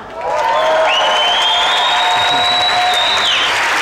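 A concert crowd applauds a Swiss band in a loud, steady wash of clapping and cheering that starts quickly and holds throughout, with sustained tonal sounds running through it.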